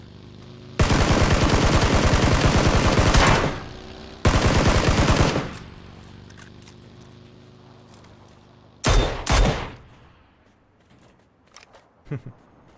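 Automatic gunfire in the shooter game Battlegrounds rips out in two long, loud bursts, followed later by a couple of shorter shots and faint clicks as things quiet down.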